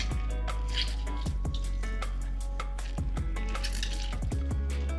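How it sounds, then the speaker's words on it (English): A fresh lemon squeezed hard by hand over a salad bowl, juice dripping in quick irregular drops and small splashes, close and fairly quiet, with no talking. "Squeeze it very strongly, let all that juice exit from the lemon."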